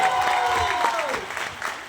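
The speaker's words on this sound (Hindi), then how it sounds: "एक बार फिर से तालियां होनी चाहिए हमारे न्यू सफाई लीडर के लिए" Audience applause for a newly named cleanliness leader, a steady spread of clapping with a speaking voice carrying over it before the applause thins out.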